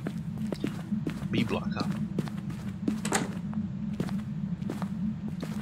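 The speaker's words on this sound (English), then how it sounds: "Yeah, I'm hearing a lot of footsteps." Footsteps in the ghost-hunting video game Phasmophobia, set in a prison, a steady run of dull thuds over a constant low hum, with voices talking over them.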